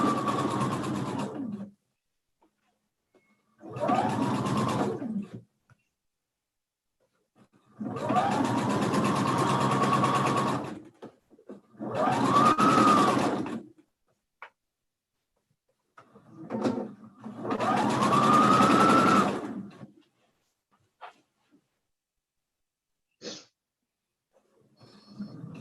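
A sewing machine stitches fabric in a dressmaking class, running in loud bursts of a few seconds each, with quiet pauses between runs.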